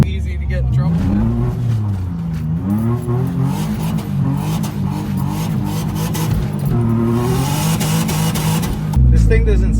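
A 2003 Nissan 350Z with a built motor and custom Garrett GTX3582R turbo kit under way, engine note wavering up and down through repeated throttle changes, loud and near, with someone talking over it.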